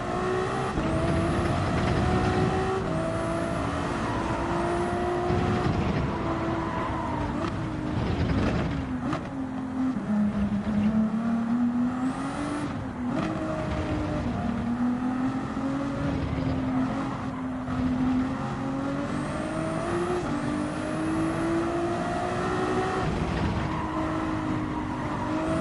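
A Ferrari race car engine in Gran Turismo 7 on a track circuit, droning steadily with a wavering pitch that rises and falls through the corners, loud and continuous with no voices.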